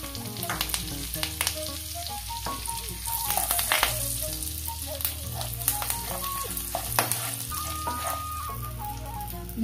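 Asafoetida and curry leaves sizzle in hot oil for a temple-style katte pongal tempering, a steady close crackling fry with scattered sharp pops, running throughout with no talk.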